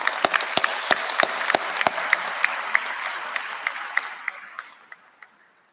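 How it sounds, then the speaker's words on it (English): Graduation audience at a Lansing School District Sexton ceremony applauding the parents, a full burst of clapping with sharp nearby claps that thins out and fades away over several seconds. "Give them a round of applause."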